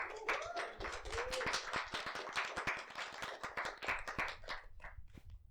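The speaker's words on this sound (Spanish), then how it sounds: "Un aplauso para nuestro profe." Audience at a university talk on languages and cultures applauds a professor with distinct, fairly close hand claps. The clapping is steady for several seconds and thins out toward the end.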